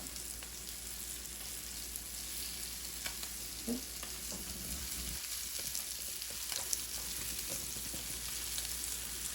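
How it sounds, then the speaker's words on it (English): Paneer cheese cubes browning in a pan for saag paneer, giving a steady close sizzle with faint spatters and occasional light scrapes and clinks, with no talking. "we're going to go ahead and cook the cheese and get it nice and brown on all sides in the pan"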